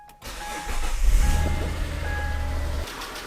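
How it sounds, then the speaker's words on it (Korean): A neglected car engine with oil leaks idles loudly and close, a rough steady running drone, with a possible tappet tick under the hum. "그리고 지금 태피 소음이라고 딱딱딱딱딱딱딱 하는 거 있죠"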